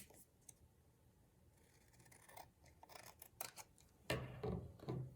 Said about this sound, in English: don't be afraid to cut a little extra off the sides. Just make sure you cut it evenly.